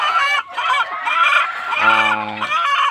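Several chickens cluck and squawk close by in overlapping bursts, with one bird letting out a longer drawn-out call.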